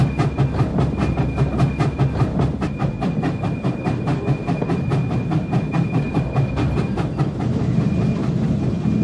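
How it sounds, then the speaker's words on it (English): Skunk Train wheels roll over the rails of a California railroad bridge in a steady, loud clickety-clack, with rapid rhythmic clicks over a heavy rumble and a faint high-pitched ringing. "Those wheels really sing, don't they?"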